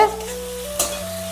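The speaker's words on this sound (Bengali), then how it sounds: "টক দইটা একটু নাড়াচাড়া করে নিয়ে এর সঙ্গে ভালো করে মিক্সড করে নিই" Sour yogurt stirred into a rohu fish curry in a pan, a brief low simmering sizzle with a couple of soft spatula strokes, close and quiet with no talking.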